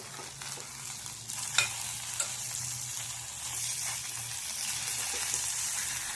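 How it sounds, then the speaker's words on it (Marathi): Methi dough pieces sauté in a pan with a constant hissing sizzle that swells slightly toward the end, punctuated by a couple of soft spatula taps. "आणि हे आपण परतून घेणार आहोत."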